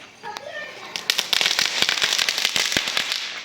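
Firecrackers set off during Diwali, a rapid run of sharp, loud bangs and crackles that bursts in after a moment and keeps popping densely to the end, with a voice talking at the start.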